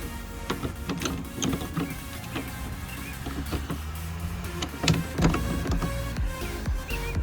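A boat's antenna being lowered before towing, heard as close mechanical creaks, clicks and clunks with a faint whirring, irregular and moderately quiet, with no talk.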